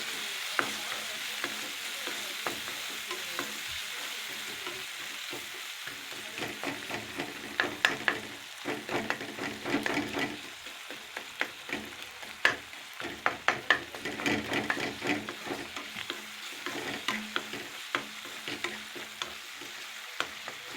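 Chopped tomatoes with a little salt fry in a pan for spicy paneer butter masala: a continuous soft sizzle with repeated scraping and clicking stirring strokes, and busier bursts of stirring in the middle.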